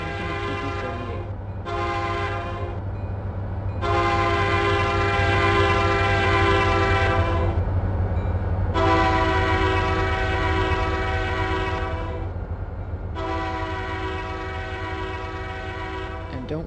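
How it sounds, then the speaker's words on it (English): A BNSF auto rack train led by an EMD GP38 passes in a railroad simulation at Colton, California, on the San Bernardino Sub, with a steady rumble under several long, loud horn blasts. "Train is BNSF 2099 East, a small auto rack train headed for the San Bernardino area."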